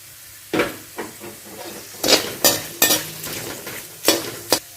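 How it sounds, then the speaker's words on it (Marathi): Peanuts dry-roasting in a pan for wheat puffed-rice chivda, popping and crackling in sharp irregular bursts over a low sizzle and stirring, close and fairly loud, with no voices. "शेंगदाणे छान भाजून घ्यायचं. असं चटचट आवाज येऊपर्यंत भाजायचं."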